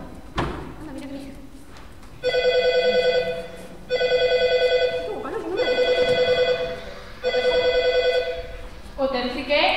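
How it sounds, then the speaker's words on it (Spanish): A telephone rings in four long electronic bursts with short gaps between them, loud and close. Voices talk before the ringing and briefly after it. "Ahora me cogen el teléfono."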